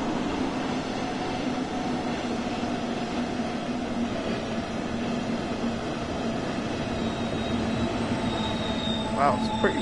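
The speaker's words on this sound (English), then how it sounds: "set the train brake to emergency and then wait for the train to come to a complete stop" A video game train rumbles steadily under emergency braking, with a low mechanical drone and faint squealing wheels rising near the end.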